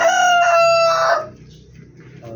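A rooster crows loudly and close by, one long strained cock-a-doodle-doo lasting about a second, then quieter rustling and faint background sounds.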